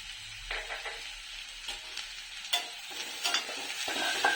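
Onions, capsicum and green chillies fry with salt and turmeric for homemade atta noodles, giving a soft, fairly faint sizzle broken by scattered scraping stirs in the pan.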